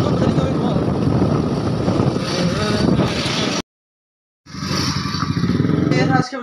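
Motorbike on the road, with a loud, continuous engine roar and wind buffeting the microphone. It cuts to silence briefly and then resumes at close range, and a voice speaks over it.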